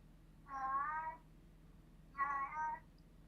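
A cat meows twice at close range in a quiet room, each call about half a second long and carrying a clear tone, separated by a short pause, with a low steady hum underneath.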